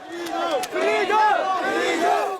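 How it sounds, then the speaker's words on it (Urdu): Refugees at a protest in a camp on the Greek island of Lesbos chant freedom slogans, a large crowd shouting in rising and falling rhythmic unison, loud and close. "یہاں آزادی آزادی کے نعرے لگائے جا رہے ہیں۔"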